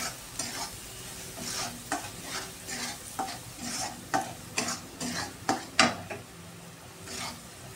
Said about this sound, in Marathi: 1-2 मिनिटं असं हलवून घ्यायचं, चांगले गिजून झालं पाहिजे।